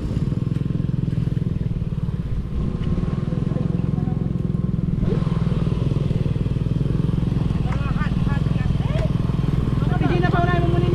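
A motorcycle idles and creeps forward on a mountain road damaged by a landslide, its engine a steady, close rumble, while people talk nearby and a few clatters sound over it.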